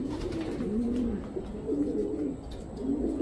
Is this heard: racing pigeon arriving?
yes